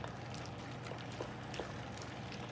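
Water pours steadily into a pot of turkey and chicken chili, a soft, continuous splashing stream heard up close without any talking.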